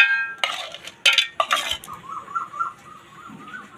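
Ice cubes dropped into glasses for lassi, a few bright clinks and rattles in quick bursts, followed by quieter tonal chirping in the background.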